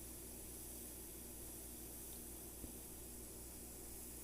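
An airbrush sprays paint in a steady, unbroken hiss that holds level throughout, close and continuous, with one faint tick partway through and no talking.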